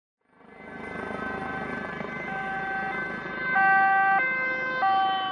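Police convoy sirens wail steadily over rumbling traffic as a convoy of SUVs passes through gates, their tones shifting in pitch near the end as several vehicles pass close by.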